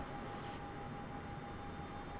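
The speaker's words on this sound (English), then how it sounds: "that noise is not the engines, right? That's the APU." The APU of an Airbus A320neo in the video game MSFS 2020 runs as a faint, steady whine and hiss with a thin constant tone, unchanging throughout and with no voices.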